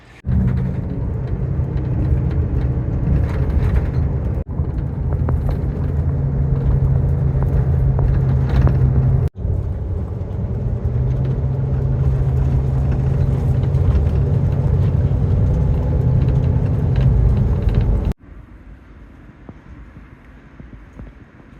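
A steady low vehicle rumble with wind noise, like riding aboard a bus on a village road, continuing loud with a couple of abrupt breaks before dropping to a quieter hum.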